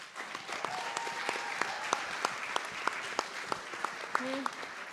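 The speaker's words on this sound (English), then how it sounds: "Give them a round of applause" Applause at a city council meeting for a dance group, scattered moderate clapping with distinct individual claps standing out, while a voice talks briefly over it.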